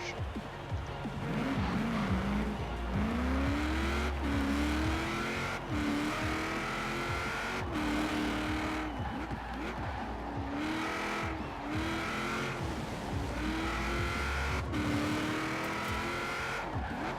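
A Hudson Hornet in the Forza Horizon 4 racing game accelerating hard, its engine revving and climbing repeatedly through gear changes, with tire squeal mixed in, loud and steady throughout.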